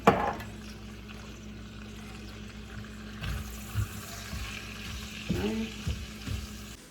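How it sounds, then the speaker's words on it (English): Vegetables sizzle steadily in a hot frying pan, with a few clinks and scrapes of stirring breaking through the crackle. "throw them in the pan and go ahead and get that going. And I may turn it down because it is sizzling pretty quickly."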